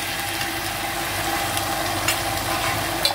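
Garlic-ginger paste sizzles in frying onions and oil while a guar bean sabzi cooks, making a steady, even crackling hiss throughout with no one speaking.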